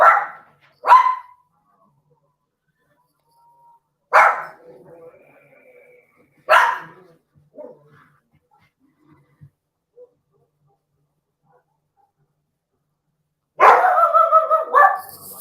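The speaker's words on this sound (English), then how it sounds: "I guess the dogs felt a goal coming." Dogs bark indoors during a hockey playoff watch party: a few sharp, close barks spaced a couple of seconds apart, then a longer quiet gap before a louder flurry of rapid barking at the end.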